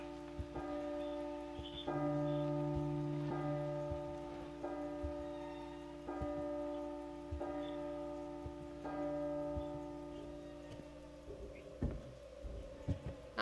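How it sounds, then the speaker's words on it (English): Church bells from the horror video game P.T. ring in slow, steady strikes with long sustained overtones, each toll blending into the next, fairly quiet with no talking. "Oh, there are the bells."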